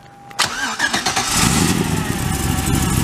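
A Chevy 5.3 full-aluminum V8 swapped into a Toyota Cressida fires up and settles into a steady, loud, close idle that holds for several seconds, with a faint whine over the rumble.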